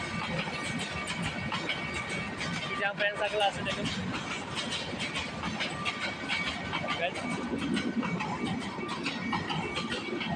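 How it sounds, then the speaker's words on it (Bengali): A train rumbles past with steady clattering and hissing, loud and continuous throughout, while people talk over it in hot weather in Chittagong. "ট্রেন যাচ্ছে"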